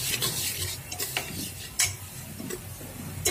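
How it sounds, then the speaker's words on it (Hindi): Millet daliya being stirred with spices and ghee in a pan, a spoon scraping and clinking against the metal in uneven strokes with a few sharp taps, close and fairly loud with no talking. "तो कुछ सेकंड के लिए एक बार फिर से चला लेते हैं इसको अच्छे से, ताकि जो हमारे मसाले हैं वो भी भून जाएं"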